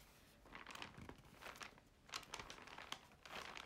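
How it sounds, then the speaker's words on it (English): Paper pages of a Clairefontaine 1951 staple-bound notebook filled with ink are crinkled, giving soft, uneven crackly rustling in several bursts over a few seconds, close and fairly quiet. "Clairefontaine 1951 staple-bound notebook. We will do the crinkle."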